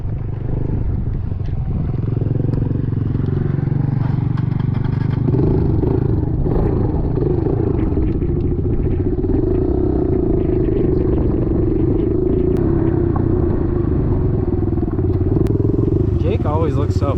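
110cc dirt bikes riding, a loud continuous engine drone with rumbling revs and some clatter throughout, close to the microphone, with voices talking over it.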